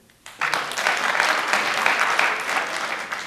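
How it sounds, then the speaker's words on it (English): A dense, even wave of audience applause at a Medford mayoral debate rises suddenly after a brief quiet and holds steady and loud to the end. "Finally, 1 minute applause."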